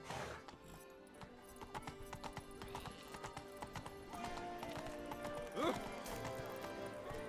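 Horse hooves clip-clopping at a gallop in The Witcher video game, a quick irregular rhythm with a whinny near the end, fairly quiet amid game ambience.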